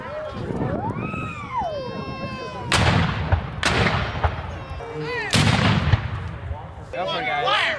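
Cannons fire at a Civil War battle reenactment in Keokuk, Iowa, with three or four loud booming blasts spaced a few seconds apart, while people shout and cheer between the shots.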